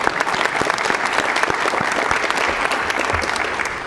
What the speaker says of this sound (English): round of applause for Jack Mensching for being our moderator